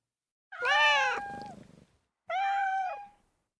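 Black cats meow twice, two clear, drawn-out close meows separated by a short silence, the first longer and louder than the second.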